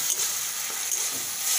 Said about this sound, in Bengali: এটাকে ভালো করে এবারে ভেজে নিতে হবে।